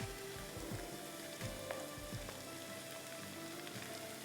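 Three chopped green chillies drop into hot oil in a karahi pan, setting off a steady, close crackling sizzle that keeps going throughout, with a few soft clinks near the start.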